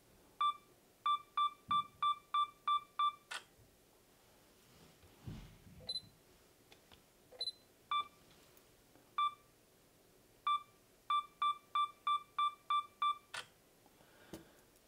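A camera's 5-second self-timer beeps in quick runs of six or seven rapid, high-pitched bleeps, broken by a few single beeps and faint clicks, close and clear against a quiet room.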